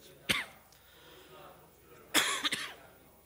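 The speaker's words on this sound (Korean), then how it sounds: "제가 기침이 안 났었는데" During a Sunday morning church service, a speaker coughs close to the microphone, one sharp cough and then a quick burst of two or three more, with quiet room tone between.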